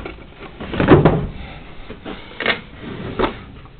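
Drawers in a house full of knickknacks slide and bump open, with a few soft wooden knocks and scrapes at close range in a quiet, muffled room.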